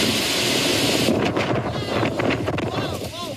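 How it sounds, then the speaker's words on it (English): Loud, blustery wind buffets the microphone in powerful roaring gusts, with a voice briefly audible underneath. "The wind swirling, trees bending, the gusts so powerful"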